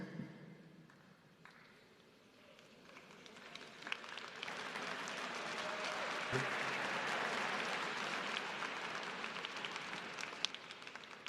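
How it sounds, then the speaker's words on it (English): Steady applause from a large crowd at a university commencement ceremony, starting moderate and swelling louder, sustained clapping that continues to the end. "are they clapping because they want me to sit down?"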